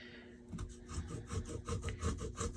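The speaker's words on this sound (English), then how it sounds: "this is how I grate the ginger." Fresh ginger grated by hand, a soft, close rasping scrape repeated in a steady back-and-forth rhythm, quiet and alone.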